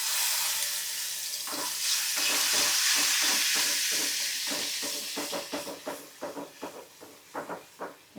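Garlic paste and hing dropped into a hot tempering for sev tameta nu shaak, giving a loud close hiss that slowly fades into a run of rhythmic scraping stirs in the pan, with no talking.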